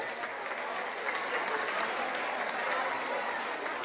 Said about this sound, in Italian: Un applauso a Don Mario